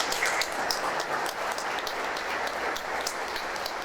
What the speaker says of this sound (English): So please, round of applause for our moderators tonight.